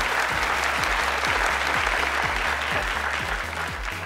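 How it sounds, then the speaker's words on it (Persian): A studio audience claps loudly and steadily on a Persian-language Family Feud game show, the dense applause filling the whole stretch under a faint rhythmic thumping beat. "تشویق کنین هر دوشانه."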